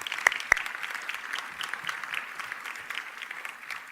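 Audience applause at a company's 50th anniversary celebration, a steady, moderately loud patter of many hands heard from some distance, with a couple of sharper claps near the start.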